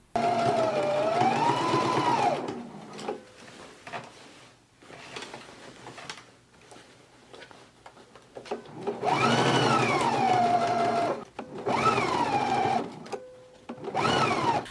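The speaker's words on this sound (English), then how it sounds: "we can go to the sewing machine and we can stitch it at a 5/8 of an inch seam allowance" A sewing machine runs a 5/8-inch seam on the sleeve of a Simplicity S8994 jacket, whirring loudly in several bursts of stitching, with short gaps and small clicks where it stops.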